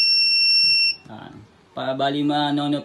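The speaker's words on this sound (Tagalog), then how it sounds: "pag sa social distance, hindi po siya mag-alarm, pero pagka like 1 meter, yan, mag-alarm siya" Social distancing wristband alarm triggered when two wearers come within about one meter, a loud steady high electronic tone lasting about a second, followed by a person speaking nearby.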